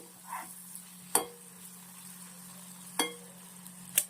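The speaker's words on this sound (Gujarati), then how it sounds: "વચ્ચે આપણે એક વાર શાકને હલાવી લઈશું જેથી શાક નીચે ચોટી ન જાય" A spoon stirring masala pointed gourd curry (parwal shaak) in a pan gives three sharp, separate clinks and scrapes against the metal, spaced a second or two apart over a faint steady hum.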